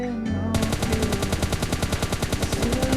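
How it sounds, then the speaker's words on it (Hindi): Loud automatic gunfire from PUBG Mobile Lite rattles out in a rapid, evenly spaced stream of shots, close and continuous throughout. "मुझे गन साउंड की आवाज़ आते है तो मैं इधर फायर करता हूँ।"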